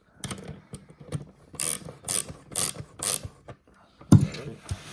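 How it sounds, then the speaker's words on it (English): Ratchet tightening an M10 nut on a LIGHTFORCE roof mount thermal bracket: several close, sharp bursts of rapid ratcheting clicks in a steady rhythm, then a heavier clunk. "I'm going to ratchet it."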